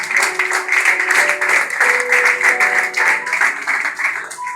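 A church congregation claps together in steady, energetic applause, many hands beating in a continuous rhythmic patter with a few voices and tones mixed in, loud and close throughout.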